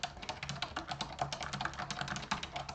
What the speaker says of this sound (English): Any additional details that you need to put, you can just type into the box here.